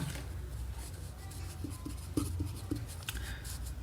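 Pen writing out a Class 10 quadratic equations maths solution, a soft continuous scratching with a few brief taps as strokes land, heard close and alone with no talking.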